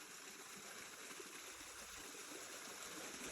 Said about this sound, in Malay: kita sudah sampai di air terjun